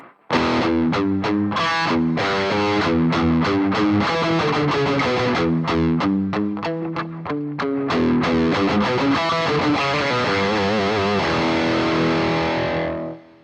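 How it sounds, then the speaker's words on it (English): Electric guitar driven through the distortion of a BOSS ME-90 multi-effects pedal, played as a loud, fast run of crunchy chord stabs and riffs that ends in one sustained chord, with no talking. "Distortion level."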